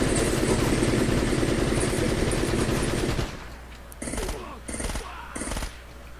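Sustained rapid gunfire from the video game Uncharted rattles loudly for about three seconds, then stops abruptly, leaving a quiet hum broken by three short separate bursts of shots.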